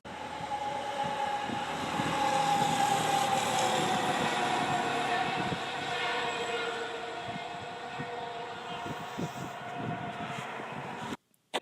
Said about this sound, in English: Here's the sound of the truck moving by.